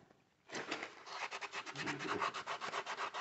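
Bodywork on a 1986 Honda Helix scooter is rubbed with 1500 grit sandpaper, a close, soft rhythmic scratching in quick back-and-forth strokes that starts after a brief pause and continues steadily.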